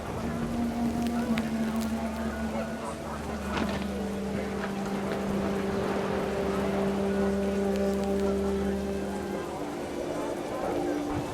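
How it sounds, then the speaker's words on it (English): Heavy rain pours down steadily over a crude tent in the game What Remains of Edith Finch, a constant wash of hiss under a narrating voice with low sustained tones running beneath. "Rain came down in buckets then"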